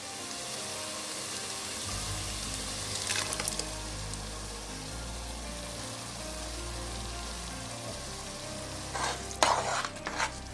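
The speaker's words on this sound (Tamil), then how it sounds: "மசாலா சேர்த்து நல்லா 2 கிண்டி விட்டுருக்கோம்." Masala being stirred and fried in a pan for channa pulao, a low steady sizzle with occasional scraping stirs, close and clear, with no talking.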